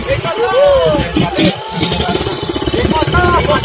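A motorcycle engine revs and drones close by amid crowd babble and chatter at a karapan sapi bull race, with the rising and falling engine note running through the whole stretch.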